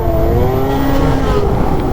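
A snowmobile accelerates hard with its skis lifted off the snow, its engine a loud continuous rising whine that holds steady throughout with no voices.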